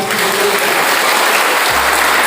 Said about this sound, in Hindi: आइए यीशु मसीह के लिए हम जोर से ताली बजाएं।